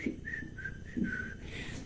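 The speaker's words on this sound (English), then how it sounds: "I can't whistle that well" A person whistles a short, wavering tune of a few sustained notes, fairly soft and slightly unsteady, with some low background noise.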